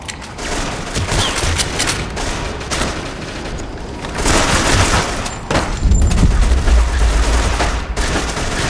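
Sustained gunfire from the PS3 shooter Modern Combat: Domination, loud bursts and fusillades rolling continuously, with heavier booming volleys in the second half.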